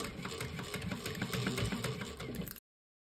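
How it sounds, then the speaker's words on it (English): A sewing machine backstitching a seam on a fabric carryall runs in a quiet, rapid mechanical whir with stitch clatter, stopping abruptly near the end, with no talk. "And again, backstitch here as well."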